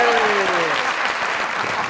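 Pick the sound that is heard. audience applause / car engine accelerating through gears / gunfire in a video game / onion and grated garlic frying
audience applause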